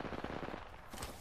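Faint gunfire in the video game Apex Legends, a quick rattling burst of distant automatic shots with no talk over it.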